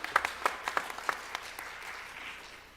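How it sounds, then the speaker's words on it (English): Audience applause at a community meeting for a Methodist Tiny Tots preschool grant, starting with sharp individual claps that thin out into a soft, steady patter of clapping from a modest crowd. "Yes, we can clap for her."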